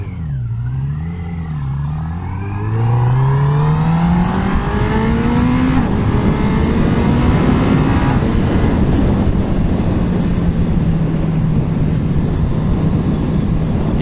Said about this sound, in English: You hear the engine, and by the engine I mean the engine below you.